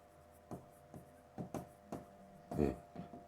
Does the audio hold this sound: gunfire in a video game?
no